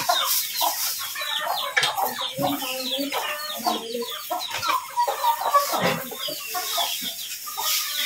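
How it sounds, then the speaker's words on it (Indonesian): Several chickens cluck busily at close range on a cattle farm, overlapping calls in a steady farmyard chatter with some background noise. "Ini juga ternak ayam juga Mas ini."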